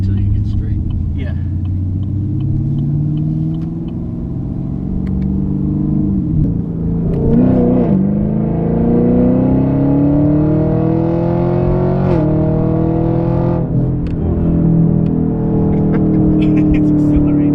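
A Chevrolet Camaro SS accelerates hard, its engine rumbling loud and close. The engine note climbs steadily, dips briefly at each gear change and rises again, with people talking over it.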